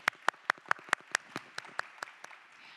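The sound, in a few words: audience applause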